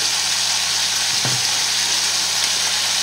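Onions frying in a pan over medium heat give a loud, steady, close sizzle throughout, with one soft clunk partway.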